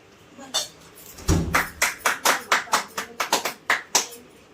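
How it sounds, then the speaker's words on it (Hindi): Hands clap during a Hindu prayer at home, starting with a few single claps and then settling into a steady rhythmic series of sharp, close claps. "बजाओ थपड़ी"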